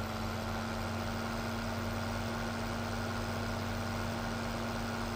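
A John Deere 9560 RT tractor in Farming Simulator 17 idles with a steady, unchanging low engine drone and a constant hum, heard alone without talk.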